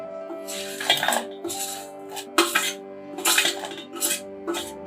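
Metal spoon and pot clatter repeatedly as jaggery is added to kadha boiling in a pot, sharp clinks and scrapes in irregular bursts over a faint background hum, close by.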